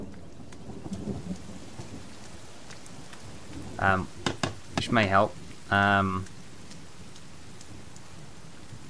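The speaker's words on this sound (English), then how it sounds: "here comes the thunder and lightning" Rain pours steadily with a low rumble of thunder during a storm in the video game The Forest, while a voice briefly speaks over it midway.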